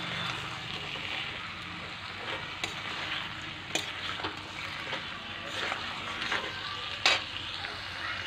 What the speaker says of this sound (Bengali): এখন মশলাটা একটু ভাজা হবে